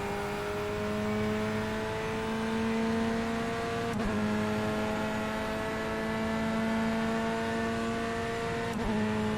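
An LMP prototype race car in iRacing at Le Mans, a steady close engine drone with clear harmonic tones and a brief gear-shift blip or two as it closes in.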